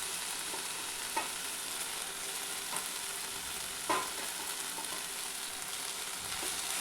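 Cabbage and carrot thoran with grated coconut sizzles softly in a pan, with a steady frying hiss broken by a few light scrapes from a spoon.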